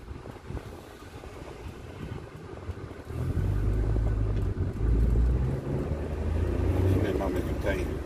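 A Ford Focus drives a detour route through Sosnowiec streets, with steady engine drone and road rumble that swells louder partway through, joined by wind buffeting and someone talking throughout.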